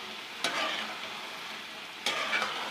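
Homemade garam masala powder stirred into mash dal frying dhaba style, a steady soft sizzle broken by two brief scraping stirs of the spoon, close and moderately quiet.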